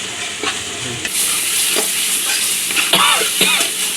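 Chili-spiced masala for prawn curry sautéing in a hot pan, a steady loud sizzle with periodic scraping stirs from a spoon, close and continuous with no talking.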